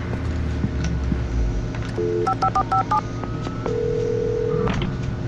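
A telephone in the video game Alan Wake 2 beeps through a quick series of dialing tones, followed by a longer steady tone, over a low ambient hum.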